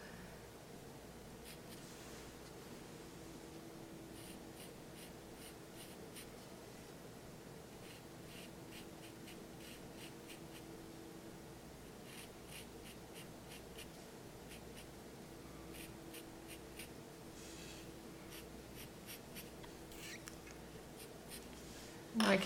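Charcoal pencil strokes scratch across paper while fine black hairs are drawn on a winter coat, a soft, steady scratching in close, repeated bursts of short strokes over a low hum.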